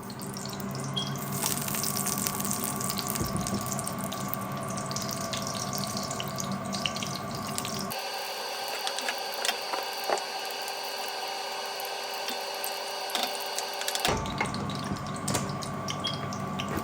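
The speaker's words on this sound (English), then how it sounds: "Pouring in the pepper." Blended pepper pours into a pot for a Nigerian ikokore water yam porridge, a steady liquid gush and splash over a faint background hum, close and continuous for the whole stretch, without talk.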